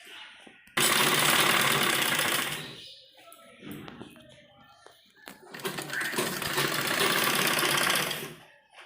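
A sewing machine stitches piping onto a net baby frock in two loud, close bursts, with a quieter stretch of handling noise between them.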